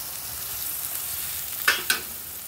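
Tomato puree with masala and salt fries quietly in a pan with a continuous hiss, and two quick stirring scrapes come close together near the end.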